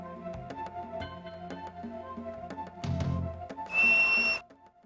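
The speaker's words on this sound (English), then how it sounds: "The high-pitched whistle call of the marmot can be heard up to a mile away." A marmot gives a shrill, high-pitched whistle alarm call near the end, one bright sustained tone rising clearly above a busy musical backdrop.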